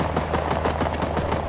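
Rapid automatic gunfire in Rising Storm Vietnam, a steady burst of closely spaced shots running continuously over dense battlefield noise.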